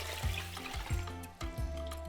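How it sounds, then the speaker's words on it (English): Japanese short grain rice is rinsed with water in a bowl, with a quiet, close rhythmic sloshing and swishing repeated several times in quick strokes. "Let's give this rice a quick rinse with some water."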